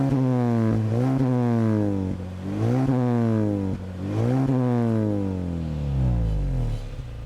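A Mazda3 with an aftermarket rear silencer revs repeatedly, each burst climbing in pitch then falling back, deep and throaty up close, four rising surges in a row.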